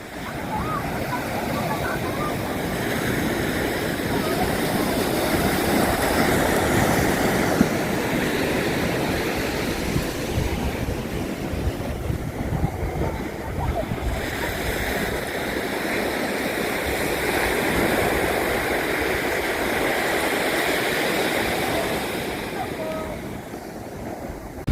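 A river current rushes loudly and continuously, a broad outdoor roar with wind noise on the microphone while people talk over it.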